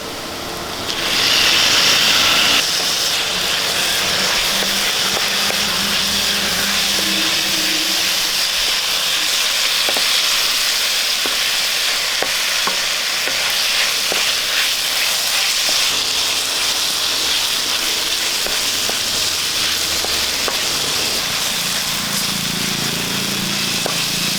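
Chopped onions and tomatoes sauté in a pan for a soya chunks masala curry, giving a steady, loud sizzling hiss that runs unbroken for about twenty seconds.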